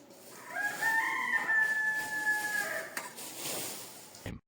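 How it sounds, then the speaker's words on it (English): A rooster crows once in a long, drawn-out call, close and clear, and a brief knock ends the clip. "Don't be surprised by a rooster, it crows at any time."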